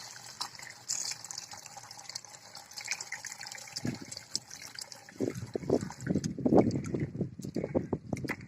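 Red rice is washed in water, with soft trickling and light splashing that grows into louder sloshing and stirring near the end, close and intermittent.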